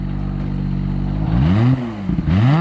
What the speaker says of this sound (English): Give me a rev so I can hear it.